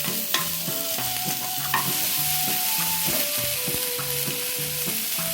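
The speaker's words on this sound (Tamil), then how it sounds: "வெங்காயத்தை நல்லா வதக்கியாச்சு." Chopped onions sautéing in a pan for a corn gravy, a continuous close sizzle with repeated scraping stirs of a spatula against the pan, no voices.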